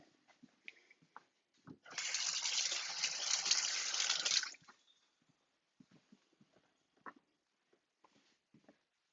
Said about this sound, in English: Just got to wash my hand